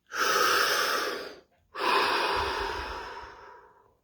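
Two deep breaths close to the microphone, a long airy inhale and a long exhale separated by a short pause, with nothing else in the background.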